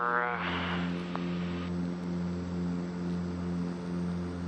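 A propeller airplane's engines drone with a steady, loud, multi-toned hum as the plane climbs away after takeoff, with brief higher tones near the start.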